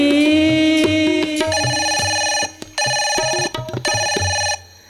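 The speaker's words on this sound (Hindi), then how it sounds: "घंटी बजी, किसने उठाया?" A telephone bell rings loudly in repeated bursts with short gaps, a bright close trill, with a low rhythmic backing beneath it, within a Hindi Janmashtami devotional bhajan.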